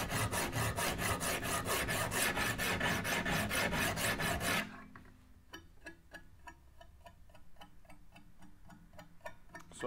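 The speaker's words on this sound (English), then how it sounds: "using a scrubbing motion, and I'm just going until all the marker comes off" Knife blade scrubbed against sharpening stones on a Wicked Edge Gen 3 Pro, a dense rapid rasping for several seconds, then lighter, sparser strokes that scrape in a slower rhythm, close and fairly loud.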